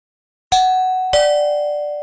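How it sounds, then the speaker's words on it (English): Two bright chime tones of a doorbell in the Roblox game Berry Avenue, a high ding followed about half a second later by a second ding, each ringing out and sustaining with no talk. "Nora, can I please, please, please ring the doorbell first"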